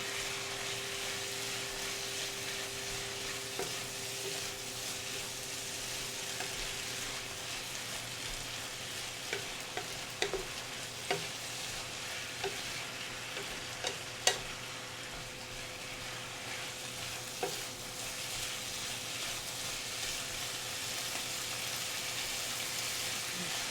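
Spicy beef mince for a curry frying in a pan, a steady close sizzle lasting over twenty seconds, broken by occasional clicks and scrapes of stirring.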